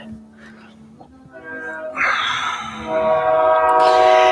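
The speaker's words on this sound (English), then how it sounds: "I don't know if you can hear a train going by outside." A train passes outside, its horn sounding in long harmonic blasts that grow louder, with rumbling underneath and a voice speaking nearby.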